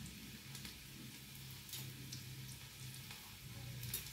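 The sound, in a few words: garlic sautéing in tempering for upma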